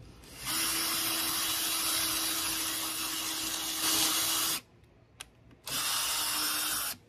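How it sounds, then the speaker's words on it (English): A power drill bores a pocket hole into wood during van wall framing, whining loudly and steadily for about four seconds, pausing, then spinning up again briefly, with no voices. "And now I think I just drilled a hole."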